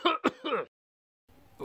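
A short cough and throat-clearing from a cutscene in the French version of the video game Harvester, two or three quick rough bursts, a pause of silence, then a faint noisy return.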